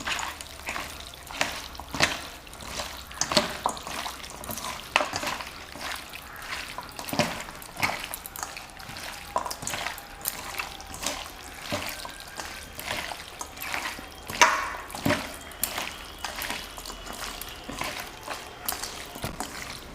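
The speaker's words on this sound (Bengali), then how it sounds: "এখন আমি মাংসটাকে বেশ ভালো করে মাখিয়ে নেব।" Raw chicken is worked by hand with green chilies, garam masala and mustard oil for a banana-leaf dish, giving close, repeated wet squelches and soft drips in an even rhythm without talk.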